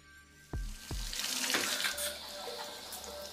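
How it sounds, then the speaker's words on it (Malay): A water tap is turned on at a mosque area during a ghost story, two sharp knocks of the handle followed by a steady running gush of water into a sink, close and moderately quiet, with no voices. "Roy terdengar bunyi paip air dibuka"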